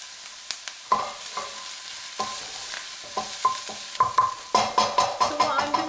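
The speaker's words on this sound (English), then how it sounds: "the onions need to caramelize and soften before I stuff the courgettes and the flowers" Onions and meat sizzle steadily as they caramelize in a frying pan for a courgette and courgette-flower stuffing, with repeated stirring scrapes and utensil clicks up close.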